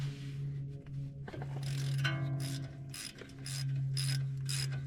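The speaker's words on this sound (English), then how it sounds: "So I do need to remove this bolt right here." A ratchet clicks in rapid bursts as it loosens the brake caliper bolt on a 2016 Land Rover LR4. The crisp repeated ticking is close to the microphone and sits over a steady mechanical hum.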